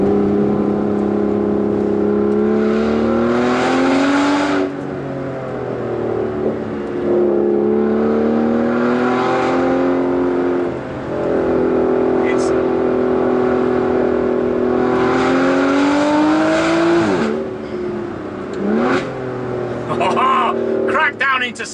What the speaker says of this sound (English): I've cracked the window open just a little bit so you can hear this glorious V12 on song